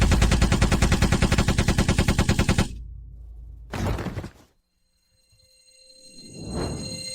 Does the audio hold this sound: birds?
no